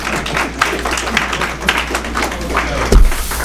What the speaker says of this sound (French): J'aimerais bien qu'on l'applaudisse encore